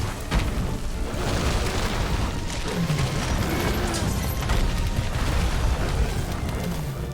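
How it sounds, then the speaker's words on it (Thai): A continuous roaring explosion blast hits the player in Monster Hunter World during a Bazelgeuse hunt. The dense rumbling noise fills the whole stretch at a loud, even level. "โอ้โหโดนระเบิด"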